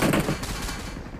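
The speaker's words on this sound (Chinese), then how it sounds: "底下还有个枪声" Gunfire in the PUBG battle royale video game, a short burst of sharp shots at the start, fairly distant and echoing, fading quickly into a faint tail, with no speech.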